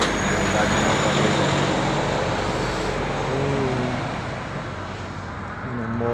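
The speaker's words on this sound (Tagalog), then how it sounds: "Yan ang motorway." Steady roadway traffic on a German motorway heard from the roadside: a continuous broad rumble and whoosh of passing vehicles that swells and eases, with a voice talking faintly over it.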